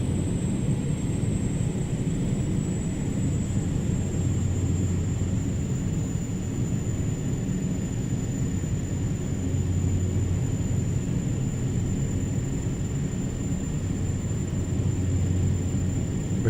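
Aircraft engines in a VR flight simulator game hold a steady drone as the throttles are pulled back for descent, with a continuous low rumble and a faint high whine running through the whole stretch, no talk.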